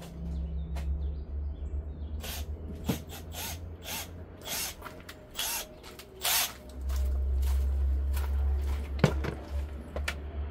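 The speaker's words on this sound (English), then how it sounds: "Let me go get a electric ratchet." A Milwaukee electric ratchet works on a 2006 Nissan Pathfinder during AC repair, with a low motor hum in two stretches and scattered clicks and clanks from tools, while birds chirp faintly outdoors.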